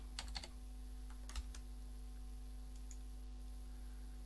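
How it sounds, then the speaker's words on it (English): Typing on a computer keyboard to enter a surname into an online birth records search form, with a quick burst of key clicks near the start and another around 1.4 seconds over a steady electrical hum, otherwise quiet. "Type in a surname."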